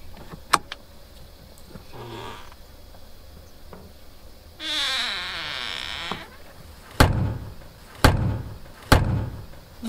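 A repaired RV motorhome baggage compartment door shuts with sharp thuds, three distinct closes near the end, after a brief whirring sound and soft clicks earlier.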